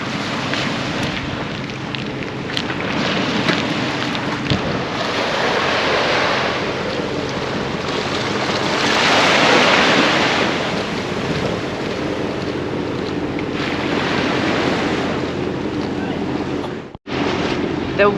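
Waves wash onto a beach beside a jetty with boats nearby, a broad steady roar of surf mixed with gusting wind buffeting the microphone, swelling louder midway before a sudden dropout near the end.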